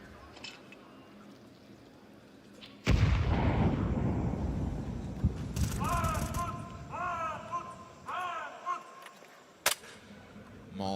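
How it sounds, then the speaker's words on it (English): A frag grenade detonates with a sudden loud blast in a Counter-Strike match at a major esports tournament, its rumbling tail decaying over several seconds as a commentator keeps talking, followed by a few short in-game clicks and a sharp crack. "Frag grenade into the red room."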